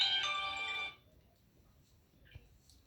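A mobile phone ringtone plays a bright electronic melody for about a second, then cuts off, leaving a quiet room with a faint click.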